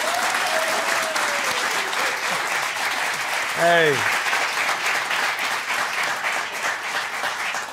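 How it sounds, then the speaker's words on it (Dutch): Studio audience on a Dutch late-night talk show applauds a professional cyclist's Liège–Bastogne–Liège win, steady dense clapping throughout, with a brief shout and a host speaking over it. "dat mag je gewoon klappen."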